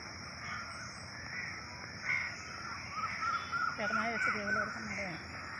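Crows caw several times in a village garden, harsh repeated calls at moderate distance growing busier toward the end, over a quiet outdoor background.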